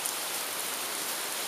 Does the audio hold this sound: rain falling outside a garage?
yes